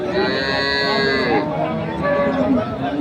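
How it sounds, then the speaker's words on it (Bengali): Dairy cows and calves moo repeatedly at a busy cattle market in Khochabari, Thakurgaon, with long drawn-out bellows over a steady crowd murmur; a second, deeper moo follows the first. "দুধের গাভী বাছুর"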